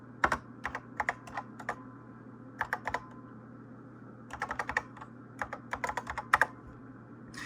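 Commands typed on a computer keyboard at a NABU Computer running a Unix-like shell, with irregular bursts of crisp key clicks in quick clusters separated by short pauses, close and clear over a faint steady hum.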